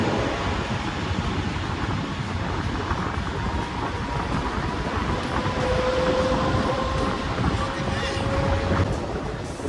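A train runs along the Srinagar to Banihal rail line, giving a loud, steady rumble of wheels and carriages close by, with a thin drawn-out tone rising over it toward the end.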